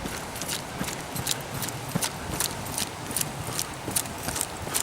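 Footsteps of an old man running outdoors in the rain, a steady rhythm of light, regular thuds over a constant wet hiss, moderately close.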